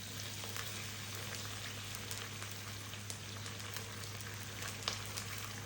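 Spice masala with chilli powder frying in a pan for dried fish curry, a steady low hiss and crackle with faint scattered pops, continuous and fairly quiet throughout.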